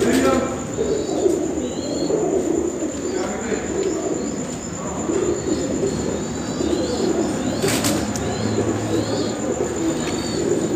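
Sialkoti Teddy pigeons, high-flying breeders, coo steadily in a loft with other birds chirping and a brief rustle of wings, while a person talks faintly in the background.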